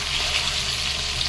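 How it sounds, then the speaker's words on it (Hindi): Mutton pieces frying in a pan with onion and salt give a steady, close sizzle with a soft hiss and no break across the short stretch. "मटन में नमक दे के आप फ्राई कीजिए"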